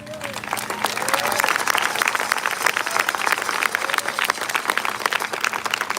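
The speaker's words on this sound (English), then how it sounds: "give them a big round of applause" An audience at a live event breaks into sustained applause, dense steady clapping that holds for several seconds with a faint voice under it at the start.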